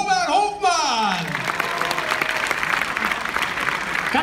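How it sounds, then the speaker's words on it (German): A voice briefly calls out over the opening moment. Then a large audience breaks into loud, dense applause to welcome a guest onto the stage, and the clapping holds strong to the end. "Meine Damen und Herren, bitte mit einem riesen Applaus."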